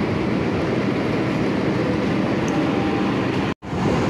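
Dharmawangsa passenger train passing through Cirebon Prujakan station in Indonesia, a sustained, fairly loud rolling rumble of carriages over rails that holds steady for several seconds, broken by a brief sharp dropout near the end.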